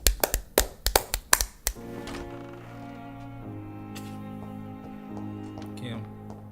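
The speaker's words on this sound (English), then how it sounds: "Let's clap for you." A quick burst of hand clapping, about ten sharp claps close up, followed by a sustained musical tone from a vampire video game.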